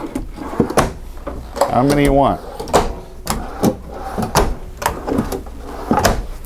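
A few drawers in a 2017 Tiffin Allegro 34PA motorhome kitchen slide open and shut with knocks and thumps, close by, while a person talks over them.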